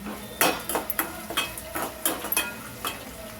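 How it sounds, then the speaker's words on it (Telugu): Four dried red chillies frying in hot oil for a tempering, with sharp metallic clinks of a spoon against the pan recurring in an uneven rhythm over faint background sizzle. "నాలుగు ఎండుమిర్చి వేసుకుంటున్నానండి. బాగా వేపుకుందామండి."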